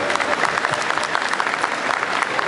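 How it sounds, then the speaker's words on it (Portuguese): Audience applause for a speaker being introduced at a Campus Party tech event talk, a steady dense clapping from a crowd, loud and continuous throughout. "Diego da Miniblocks, uma salva de palmas para eles."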